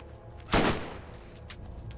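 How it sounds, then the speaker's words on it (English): A machine gun in the video game Borderlands fires one loud, close burst, with a fainter shot following a moment later. "Oh, it's a machine gun."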